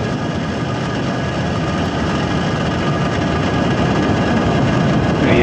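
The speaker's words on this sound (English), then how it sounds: "Ignitions. Engines full power. And liftoff." Loud, dense roar of SpaceX Falcon 9 rocket engines just after liftoff from SLC-40 at Cape Canaveral on the Project Kuiper KF-01 launch, a steady broadband rumble that holds without break.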